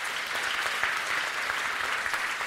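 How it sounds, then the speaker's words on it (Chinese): Steady applause fills a church thanksgiving service marking a congregation's anniversary, a crowd clapping continuously and fairly loud throughout with no break. "我们用拍掌来鼓励"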